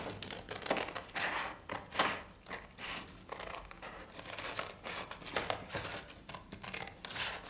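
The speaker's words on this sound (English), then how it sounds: "Just gotta cut around her hair here." Scissors snipping around the hair of a paper cutout drawing of a superheroine, a steady run of close, crisp cuts and paper rustles with no talking.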